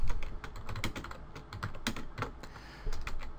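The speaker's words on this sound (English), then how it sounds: "just go ahead and type in" Rapid typing on a computer keyboard, a close, busy run of light key clicks in an irregular rhythm, heard alone with no talk.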